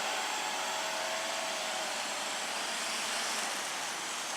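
A Hubsan H501S quadcopter drone hovers in place, giving a steady, even high-pitched whirring hiss that holds constant without pauses.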